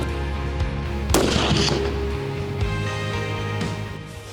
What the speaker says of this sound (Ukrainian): Ну і тепер нарешті стрільба.